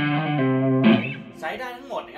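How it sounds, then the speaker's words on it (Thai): Crunchy distorted electric guitar through a Kemper profiler driving a Mesa 4x12 cabinet rings out a few sustained, gritty notes and a chord, with a voice partly over it. "อันนี้เป็นเสียงแบบว่าคลั่นๆหน่อย"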